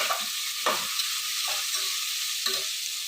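Ingredients for a horse gram curry are stirred in a sizzling pan, with an even frying hiss and several distinct scraping strokes of a spoon, close up and without talk.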